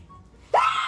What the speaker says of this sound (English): Why the fuck did you scream like that?